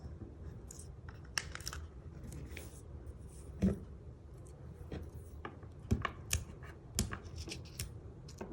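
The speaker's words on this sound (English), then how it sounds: "snip it with my snips." Craft snips trimming paper leaves for a greeting card front, a series of sharp, close snips and small clicks scattered irregularly over a quiet background.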